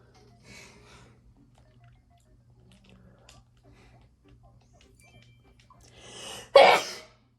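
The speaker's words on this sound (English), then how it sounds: "I've been sneezing a lot lately" A single sharp, loud sneeze bursts out near the end after a quiet stretch of faint rustling and a soft breathy sound.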